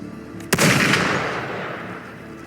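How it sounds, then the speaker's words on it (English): A single sharp gunshot in the video game Wuthering Waves cracks out near the start, followed by a long booming reverberant tail that slowly fades. "Gunfire!"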